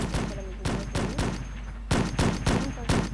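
Sharp gunshots crack in irregular clusters of two and three during a raid on a farm in the video game Blackhawk. The shots are loud and close, with short gaps between bursts.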